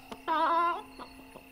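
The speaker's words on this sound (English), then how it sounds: "I'm a spooky goth girl with an undead chicken in my bag." An undead chicken in the video game Tchia clucks once in a drawn-out, tonal squawk, followed by a few short, faint clucks against a quiet background.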